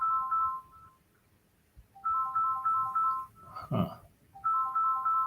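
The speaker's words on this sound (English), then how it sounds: "Oh, it's my phone." A phone ringtone goes off during a live forex trading session, a bright repeating electronic melody in short bursts separated by pauses, with a brief murmur from a man partway through.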